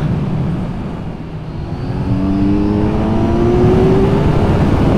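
Kawasaki Z900 motorcycle engine pulling hard out of a bend on a winding road, a loud steady roar with rising pitch as revs climb over five seconds, wind noise underneath.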